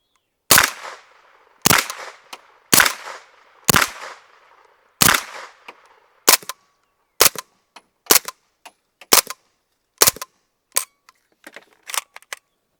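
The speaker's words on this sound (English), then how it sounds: "the MP5 again, 10 rounds once again, supersonic first, subsonics second" An MP5 fires ten 9mm rounds, first supersonic, then subsonic: five louder spaced shots with ringing tails, then quicker, sharper, drier cracks, all close and outdoors with silence between.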